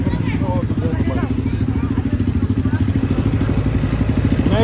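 A motorbike ridden on a road in Malaysia, its engine putting out a steady, loud, pulsing drone with wind buffeting throughout.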